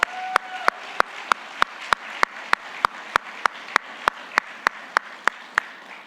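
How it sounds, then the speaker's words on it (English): Audience at a Diwali celebration claps through a steady round of applause, with regular sharp louder claps standing out close by at an even beat, like one person clapping rhythmically near the front. "the ISA needs a very hearty round of applause"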